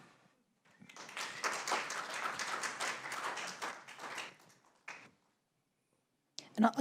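Audience applause at a county board of supervisors meeting, a sustained burst of many hands clapping in a hall for about four seconds, fading out, followed by a few isolated knocks and taps.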